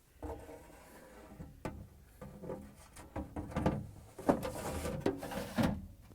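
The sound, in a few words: Frigidaire refrigerator meat pan drawer sliding back in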